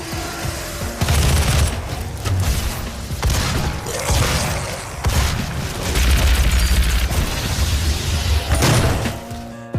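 Gunshots in the video game Fallout, delivered as loud, close bursts separated by short pauses and layered with booming impacts and a mechanical clatter, with no voice over them.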